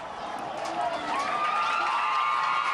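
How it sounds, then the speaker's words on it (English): A football crowd roars as the Red Raiders take the field at a high school game, a broad swell of cheering that builds and holds, with a commentator talking over it. "To a loud uproar of the crowd. That's enthusiasm right there. The crowd is going crazy."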